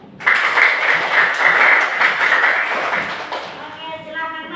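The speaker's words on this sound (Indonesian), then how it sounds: "Sekarang kita tepuk tangan untuk semua" A classroom group claps together for everyone, a dense steady burst of applause that starts abruptly and carries on for several seconds before tapering off.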